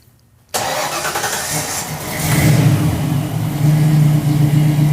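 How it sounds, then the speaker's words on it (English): After a moment of near-silence, a car engine cranks and catches, then settles into a steady, close idle that swells slightly in loudness. "let's go ahead and start the engine."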